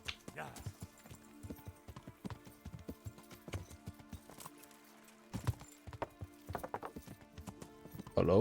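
Horse hooves clip-clop in Kingdom Come: Deliverance, a rapid irregular run of close, crisp hoofbeats through the whole stretch, with a short pause partway through and a loud whinny or snort at the end.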